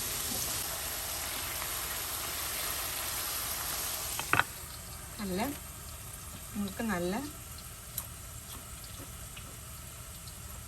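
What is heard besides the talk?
plantain slices frying in oil for banana chips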